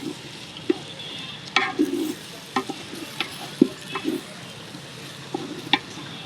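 Mixed vegetables and green peas stir-fried in a pan for khichdi over a well-lit stove, a constant low sizzle broken by repeated sharp clinks and scrapes of a spatula.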